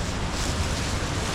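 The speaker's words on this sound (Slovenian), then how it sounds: "Nahajam se tik nad Zgornjim Slapom Peričnik." The Upper Peričnik waterfall in the Vrata valley below Triglav, heard from just above, produces a dense, unbroken rushing roar that is loud and even throughout, with no talking.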